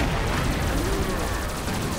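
Rapid automatic gunfire from dual guns in the XSHOT shooter game, a dense continuous rattle of shots running steadily at even loudness with no talk over it.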